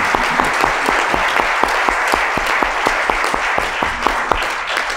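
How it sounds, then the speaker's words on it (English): An audience at a summit on congressional investigations and hearings applauds, a strong, sustained round of clapping from a room full of people with a few sharper claps standing out. "Please join me in a round of applause to thank Jeff."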